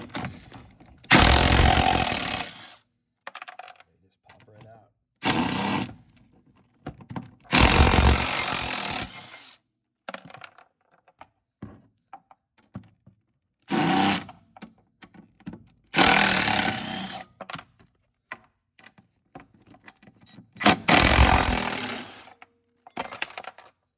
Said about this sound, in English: we've got 4 bolts that we need to undo, and the whole seat base just comes right off